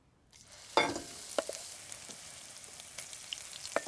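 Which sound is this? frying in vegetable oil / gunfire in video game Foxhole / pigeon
frying in vegetable oil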